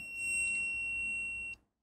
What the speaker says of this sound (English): What is that beep again?